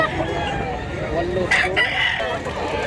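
A gamecock rooster in Mantalungon, Cebu crows loudly and close by, one strained drawn-out call rising over farmyard background noise.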